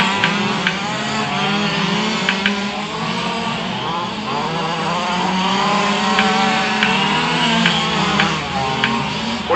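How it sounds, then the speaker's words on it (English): A race car with an out-of-tune motor runs continuously on a barn raceway track, its engine drone steady and rough alongside other cars, with a commentator talking over the noise throughout. "Something going wrong with Allie's car. It sounds like her motor's out of tune."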